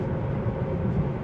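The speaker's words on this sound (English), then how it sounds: "Did that train finally move, or is this another train?" A train rolls past at an electric vehicle expo, a steady low rumble and rattle holding at an even, fairly loud level throughout with no voices.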